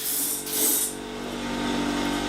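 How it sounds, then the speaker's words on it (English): A Queensland fiddleback maple wooden box is polished, a soft rubbing hiss rising in a brief louder sweep and then easing into a low steady friction sound. "And just polishing it now."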